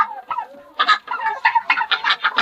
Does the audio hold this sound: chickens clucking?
yes